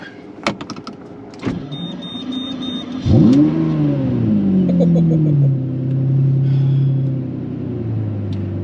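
A high-mileage Lamborghini Murcielago V12 starts up with a few clicks and a whirring starter, catches with a loud bark, then settles into a deep rumbling idle and a brief rev, up close with no talking.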